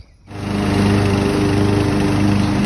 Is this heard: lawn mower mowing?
yes